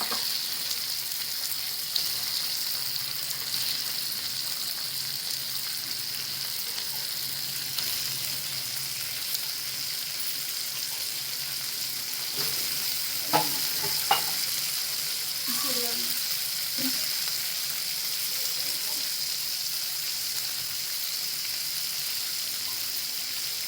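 Pomfret fish coated in flour frying in a pan, a steady soft sizzle running throughout with a few brief clinks and scrapes from turning the pieces midway; no talking.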